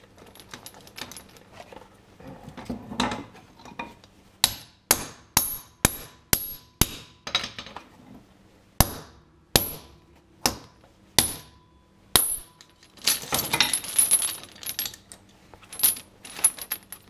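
A hammer strikes a frozen, cold hardened steel chain in a series of sharp metallic clanks, a quick run of evenly spaced blows, then more after a pause, close and loud with no talking.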